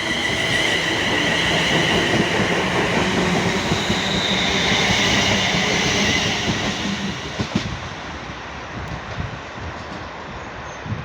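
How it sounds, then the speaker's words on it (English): A passenger train from Rugeley Trent Valley bound for Birmingham New Street rumbles loudly past a station on the West Midlands line with squealing wheels and rolling clatter, then fades as it slows. "here we have a service coming from Rugeley Trent Valley bound for Birmingham New Street"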